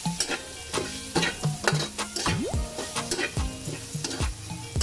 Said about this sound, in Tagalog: Mga kaibigan, haluin muna natin.